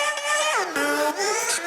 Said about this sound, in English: Take a look at the main vocal lead